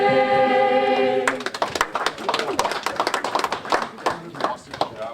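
A school audience bursts into steady, enthusiastic clapping right after the last sustained sung note of the national anthem at a high school veterans' ceremony, filling the room with dense hand claps that gradually thin out.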